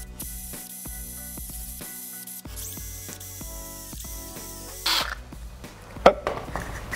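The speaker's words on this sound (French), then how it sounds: "Et après je vais aller le percer pour pouvoir faire mon trou pour le passe-paroi" A step drill bit bores through the bottom of a plastic bottle, making a steady, buzzing drill whine with a rhythmic grinding ticking. Near the end the whine cuts off, followed by a brief rustle and one sharp crack.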